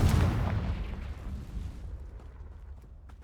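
A Confringo blasting spell explodes in Hogwarts Legacy, a loud booming burst up front that rumbles and fades over a few seconds with no talk over it.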